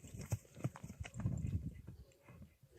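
A six-year-old horse for sale runs hard, its hooves beating a quick, uneven clip-clop that thuds loud and close throughout, with no voices.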